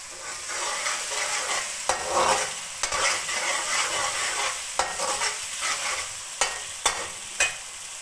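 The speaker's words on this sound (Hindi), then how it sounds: "इसके बाद इसमें चिकन ऐड करते हैं" Chicken frying in a pan with spinach and potatoes, a spoon stirring it with repeated scraping clicks over a steady close sizzle.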